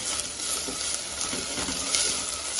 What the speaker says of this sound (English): Fry this very well.